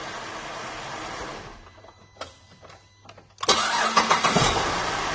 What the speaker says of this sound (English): car's started back up